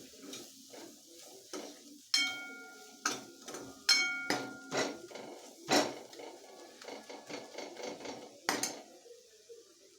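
Spices with Kashmiri chilli powder being sautéed and stirred in a pan for a Bhogi mixed-vegetable khengat, a string of close, sharp scraping and clinking strokes over a faint sizzle, with no talking.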